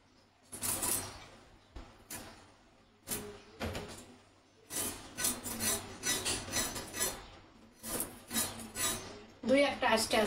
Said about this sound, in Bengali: আর একটা মাছ কাটছি।